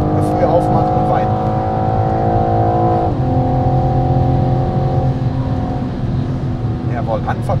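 BMW M4 engine pulling hard on the Nordschleife, a loud, steady in-car drone with harmonic whine that shifts pitch midway, with someone talking over it throughout.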